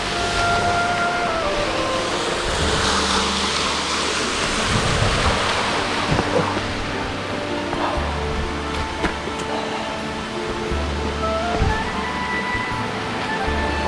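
A hidden waterfall in the remote mountains of Nara, plunging 104 metres, produces a steady, dense roar of rushing water throughout, with gusts of wind buffeting the microphone.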